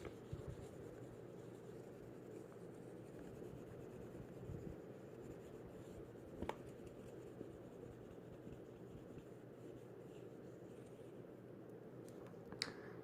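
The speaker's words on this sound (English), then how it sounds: "So we'll write that problem out and work on that." A pencil scratches steadily on paper while a long division problem is written out, with a soft, continuous close-up rasp and a couple of small taps, no voices.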